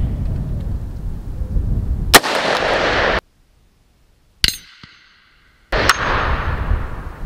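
A .308 rifle shot fired from a PSA AR10 at a steel target 300 yards downrange, each sharp crack followed by a faint ringing tone, heard outdoors against steady wind noise with a few abrupt dropouts.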